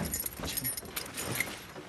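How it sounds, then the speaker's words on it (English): Car keys jangle as they are handed from one person to another, a quick cluster of bright metallic jingles close by, with faint car and road noise in the background. "Give her the keys."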